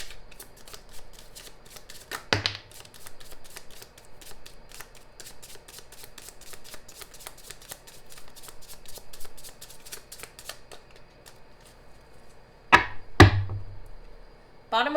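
A deck of cards being shuffled by hand for a tarot reading, a long run of quick fluttering riffles with louder bursts as the cards are squared and tapped, close up and with no one talking.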